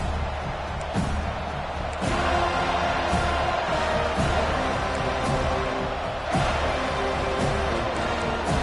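Stadium crowd at a college football game, a continuous loud roar of many voices with rising cheers and occasional thumps, filling the whole stretch.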